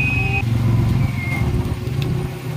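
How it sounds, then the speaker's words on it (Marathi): Vehicles speed past on a road near Dharmapuri, a loud continuous engine rush and roar of passing cars with a brief higher whine, heard from inside a moving vehicle. "गाड्या खूप वेगाने चालल्या"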